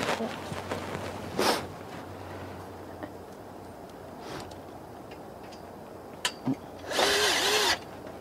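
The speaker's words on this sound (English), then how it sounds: "We're going to put a Tech screw. Now do this in the side of the tubing." Power drill driving Tek screws into the side of metal tubing on a greenhouse table frame, heard as a short whirring burst early on and a louder, longer burst near the end, with people talking in between.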